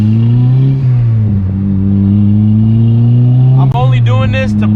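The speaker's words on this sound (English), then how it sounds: "So I gotta step on the gas a little bit." A boosted Honda Civic accelerates hard from a stop, its engine note climbing steadily and loud over several seconds, with people talking inside the car.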